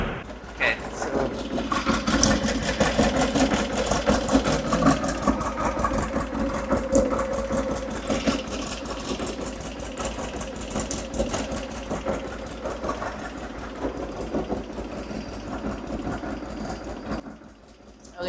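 A car engine fitted with Weber IDF carburetors idles steadily and evenly at close range for the whole stretch, with a faint, rapid mechanical ticking running under it.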